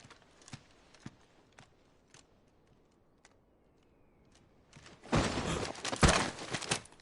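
Horse hooves clip-clop in the video game Final Fantasy XVI, starting as sparse, scattered taps and then swelling into a loud, dense clatter of rapid impacts over the last couple of seconds.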